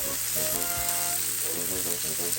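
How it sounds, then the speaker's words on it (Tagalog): Samgyeopsal pork belly sizzles and fries steadily in a pan for Korean-style grilling, a dense close crackle running throughout, with faint tonal sounds in the background. "And we have to fry it until it turns brown."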